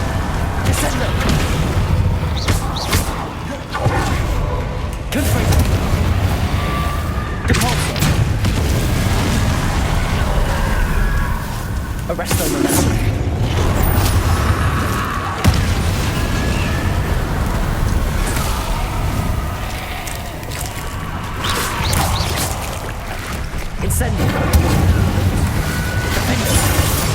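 Confringo spell explosions in the video game Hogwarts Legacy, repeated booming blasts and bursts layered over dense, continuous game noise and music, loud and busy throughout.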